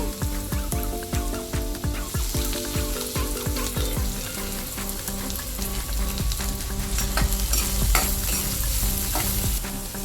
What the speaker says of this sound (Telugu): ఇప్పుడు అదే ఆయిల్లో ముందుగా కట్ చేసి ఉంచుకున్న క్యారెట్ అలాగే క్యాప్సికమ్ ముక్కలు కూడా వేసి వేయించుకుంటున్నానండి